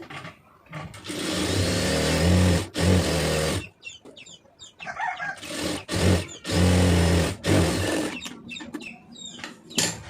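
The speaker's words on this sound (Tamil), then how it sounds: "இப்போ நம்ம கட் பண்ணியிருக்க இடத்த அப்படியே மடித்து பெரிய தையல் போட்டுருங்க எம்மிங்க்கு." Sewing machine running in bursts as it stitches a folded edge on a beginner's blouse, with loud, steady whirring spells broken by short pauses and clicks.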